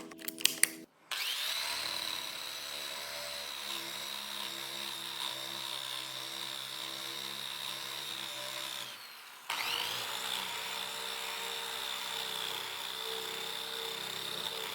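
Drill-spun braided steel cable texturing head tearing into wood surface, a steady loud whirring grind running continuously, briefly stopping near the middle before resuming, with no talk.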